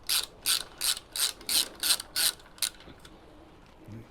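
A ratchet undoes the coil bracket bolts on a Honda Hornet CB600 motorbike, giving eight quick, close rasping click bursts in a steady rhythm before falling quiet with a few faint ticks.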